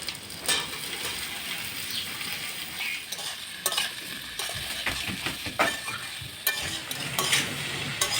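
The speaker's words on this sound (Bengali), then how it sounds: "এখন হালকা আছে ইঁচড়টা ভেজে নেব।" Parboiled young jackfruit fries in a pan with cumin, dried chilli and bay leaf, giving a steady low sizzle with intermittent stirring scrapes and ticks, close and moderately quiet, with no voices.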